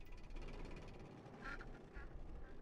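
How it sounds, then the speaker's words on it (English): Duck-like quacking calls from a flock of birds flying in V formation in the Roller Coaster Tycoon 3 video game, a few short honks rising over a steady background of ambient game noise. "Oh look, a flock of birds."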